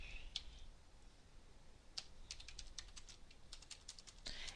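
Quiet, light clicking of keys on a computer keyboard while a name is entered, a few scattered taps then a quick irregular burst, over a steady background hiss with no speech.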